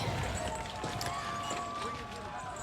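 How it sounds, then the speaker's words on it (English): Running footsteps thud heavily across a wooden dock in a tabletop RPG sound effect, a steady hurried patter filling the whole stretch, with voices murmuring underneath. "Your footsteps patter heavily upon the wood of the dock as you run out onto the water and reach this Thaloran ship"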